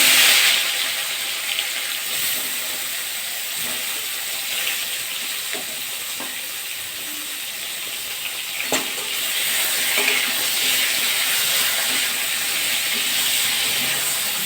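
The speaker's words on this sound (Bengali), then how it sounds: "একটু অল্প করে ভাজা করে নেব" Eggplant pieces frying in oil in a pan with mustard, black cumin and green chili, a steady close sizzle and hiss running throughout with occasional crackles and stirring, no talk.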